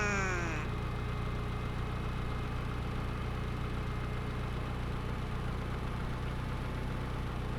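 A Mitsubishi Lancer EX Turbo engine rumbles steadily and loud, its pitch holding high after a brief rising whine at the start, with no voices.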